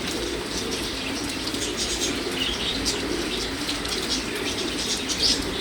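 English tippler pigeons flying in the rain, with a steady hiss of rainfall throughout and scattered bird calls, soft coos and wing flaps mixed in at moderate distance.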